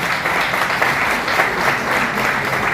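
Audience clapping at a university celebration of Babasaheb's birth anniversary, a dense, steady burst of applause throughout with no break.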